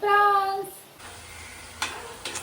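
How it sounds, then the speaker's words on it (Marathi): Prawns frying on a crowded iron tawa give off a soft, steady sizzle that sets in after a brief tonal sound at the start, with a couple of faint clicks further on. "इथे आमची फ्राय चालू आहे तवा भरलेला"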